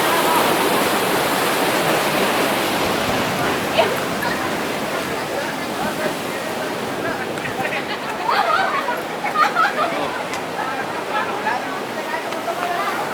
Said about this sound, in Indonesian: Ombaknya kebetulan lagi tinggi, lagi deras tempatnya.